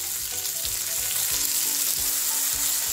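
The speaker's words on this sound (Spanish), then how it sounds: "Lo salteamos un poquito, vamos a tenerlo aproximadamente un par de minutos y volvemos." Frozen peas sauté in a hot pan with a steady, close sizzle that holds for the whole stretch, dotted with soft low knocks as the pan is moved.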